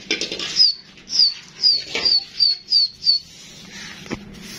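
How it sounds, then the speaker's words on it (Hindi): A burst of pigeon wings taking flight flaps hard several times in a steady rhythm, each flutter paired with a thin high squeak, up close and loud, then fades out. "कबूतर दोबारा उड़ चुके हैं।"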